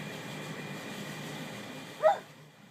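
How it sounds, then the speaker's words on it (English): A single short, high yip bark from a dog during play between a German Shepherd and a molosser-type dog, sharp and moderately close over quiet background noise. "you heard that little yip bark out of Charlie."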